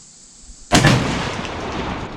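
A single loud shotgun blast firing 3.5 inch steel number 2 shells at a 30-yard pattern target, breaking from near quiet and leaving a long rumbling tail that fades slowly.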